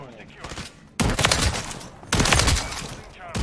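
A full-auto shotgun fires in Call of Duty: Modern Warfare 3, loud rapid blasts in two sustained bursts with a brief pause between, while voices talk over the gunfire.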